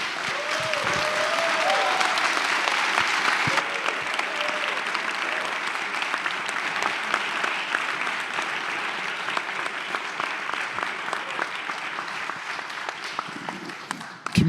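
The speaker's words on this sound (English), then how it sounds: "let's get this man a round of applause" An audience at a live forum event at Black Footwear gives a sustained round of applause for a man named Dwayne, a broad, steady wash of clapping that tapers slightly toward the end, with a brief voice near the start.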